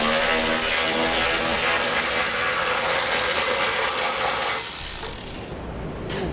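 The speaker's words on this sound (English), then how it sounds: "For these, we'll need a 10 millimeter socket." Fast, continuous ratcheting from a ratchet with a 10 mm socket removing frame rail nuts on a trailer hitch panel, a loud, steady clicking that stops abruptly near the end.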